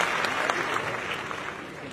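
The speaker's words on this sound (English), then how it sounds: "I think we should have gotten a louder round of applause for him." An audience applauds continuously, a dense wash of clapping heard from a moderate distance at fairly low volume with no other sounds standing out.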